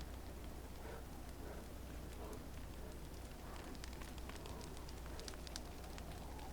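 A virtual fireplace in the Second Life game crackles softly and steadily with small pops over a constant low hiss, faint and continuous, with no talking.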